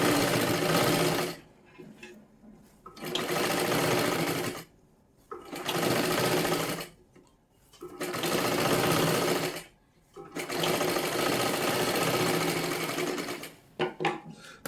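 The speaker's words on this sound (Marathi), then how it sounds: "आता ह्याच्यावरती अजून एक आपल्याला डबल शिलाई मारून घ्यायची आहे, जेणेकरून आपली बाही एकदम पॅक होऊन जाईल." Sewing machine running in several steady bursts as a blouse sleeve is double-stitched, each run lasting a couple of seconds, separated by short pauses, close and clear.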